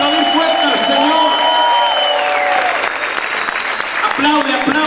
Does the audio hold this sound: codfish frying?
no